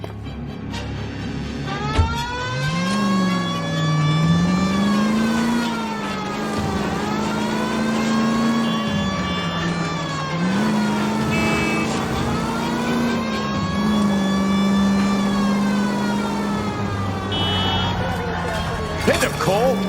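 A car drives in the video game L.A. Noire, its loud engine rising and falling through repeated gear changes and revs for about twenty seconds, with voices talking over it.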